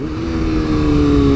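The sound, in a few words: motorcycle engine revving in first gear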